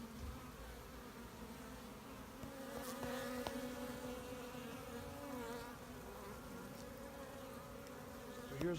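Many honey bees, apparently all workers on a brood frame during a hive inspection, hum in a dense, steady drone close by, a soft continuous buzz with slight swells in pitch and no voices.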